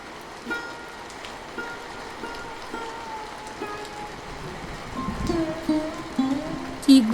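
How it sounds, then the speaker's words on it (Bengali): Heavy monsoon rain falls in a village in an animated Bengali folk tale, a soft, steady patter that grows denser toward the end, joined by a few tonal sounds. "এই বৃষ্টি যে থামার নামই নেয় না"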